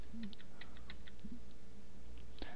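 Computer keyboard being typed on, a short run of light, quick key taps close by, sparse and uneven, followed by a sharper final keystroke, no talk.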